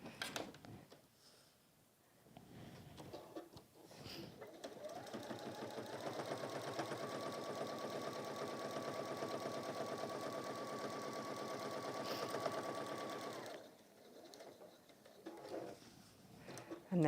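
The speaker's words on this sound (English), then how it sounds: "And then just top stitch around." A sewing machine top stitches around a fabric mug carry in one continuous run of about nine seconds, a close, rapid mechanical whir that rises slightly in pitch partway through, with brief handling noises and a voice before and after.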